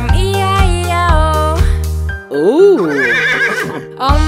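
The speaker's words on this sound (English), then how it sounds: "And on this farm he had a horse, E-I-E-I-O. With a nay nay here and nay nay there." A horse whinnies in a rising and falling neigh over children's nursery rhyme music. It follows sung lines and is clear and prominent in the mix.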